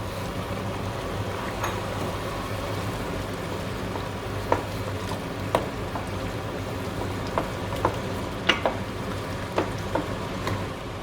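Chicken curry with two tins of tomatoes simmering in a pan, a steady low bubbling sizzle with occasional faint clicks and pops, no talk.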